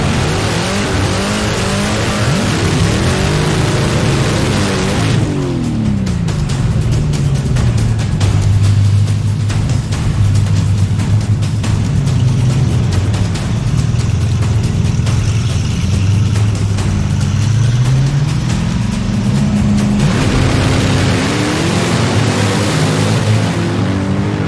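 Drag race at Roadkill Nights between a 1955 Plymouth Savoy and a Dodge Hellcat Challenger: loud, continuous engine roar with rising revs, a long sustained pass whose pitch climbs and falls, then a fresh hard launch near the end, no talking.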